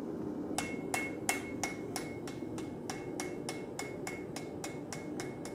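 A blacksmith's hammer strikes hot steel in a steady, evenly spaced series of about a dozen ringing blows while planishing a forged movie prop taper, with a constant low workshop roar beneath.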